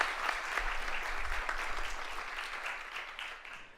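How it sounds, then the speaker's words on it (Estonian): A room full of people at a conference award ceremony applauds steadily, a dense patter of clapping that holds for several seconds and tapers slightly at the end. "Teeme Martinile veel ühe toreda aplausi."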